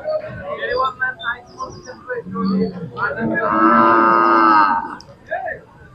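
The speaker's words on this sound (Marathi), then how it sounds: "हा एक मोठ्या मापाचा बैल आहे." A large, tall Khillar bull lets out a loud, sustained moo at the Sangola cattle market, rising over the crowd noise after a stretch of nearby talk.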